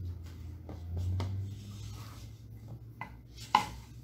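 Cookie ingredients being stirred in a bowl, soft scraping and rubbing with a few light taps and a sharper clink near the end, quiet and close.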